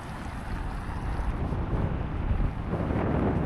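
Strong wind blowing outdoors at Sky Lagoon, an Icelandic geothermal spa, a heavy buffeting rush across the microphone that builds and stays loud throughout.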